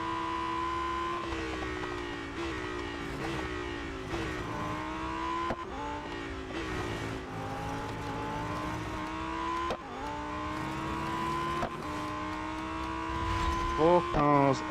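A Lamborghini Huracan STO races in the Real Racing 3 video game, its engine rising and falling in pitch through repeated upshifts and accelerations, loud and continuous.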